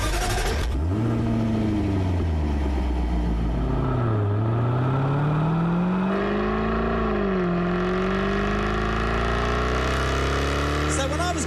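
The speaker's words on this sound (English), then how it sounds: "This is the noise the old Jaguar advert used to make." An old Jaguar car engine revs in an advert, a loud, throaty rise and fall of pitch repeated several times, close and continuous.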